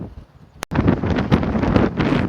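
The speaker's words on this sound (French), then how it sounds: "il y a toujours autant de vent" Strong gusts of wind buffet the microphone on a foggy walk through a pine forest, roaring loudly and unevenly after a brief quiet start and a sharp click.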